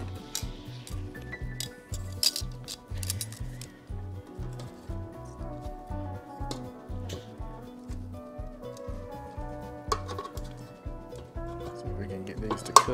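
Light metallic clinks and scrapes as bourbon-glazed chicken legs are turned in an air fryer basket, scattered, brief contacts over a steady rhythmic background beat.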